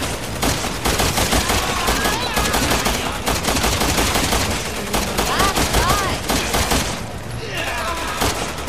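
Rapid bursts of gunfire from the video game Resident Evil 6, loud and dense machine-gun style volleys with short gaps, continuing throughout with a brief lull near the end.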